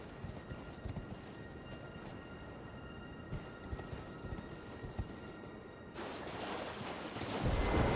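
Torrent, the spectral steed in Elden Ring, trots with steady clip-clopping hooves through Raya Lucaria, the hoofbeats soft and regular beneath game ambience that swells louder near the end.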